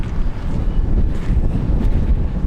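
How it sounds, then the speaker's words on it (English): Strong wind buffets the microphone with a constant low rumbling roar, loud and unbroken throughout. "It's windy out here."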